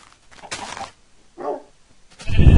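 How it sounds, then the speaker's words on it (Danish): Dogs bark in a few short, close bursts separated by brief pauses, with a louder burst at the end. "Og der er hunde."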